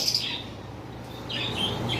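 Pet cockatiels and lovebirds chirp and tweet in short bursts at the start and again near the end, against a soft background hum in a bird shop.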